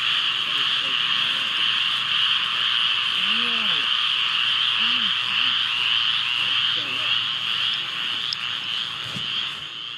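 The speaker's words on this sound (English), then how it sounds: "Do you hear all those frogs" Many frogs croak in a dense, droning chorus outdoors near an abandoned hospital during a hurricane, with a few lower individual croaks standing out nearby.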